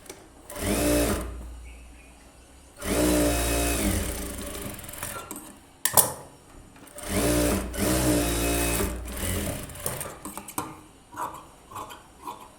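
A sewing machine stitching blouse fabric runs in loud bursts of rapid rhythmic clatter, about four runs separated by pauses with small clicks and handling noises between them.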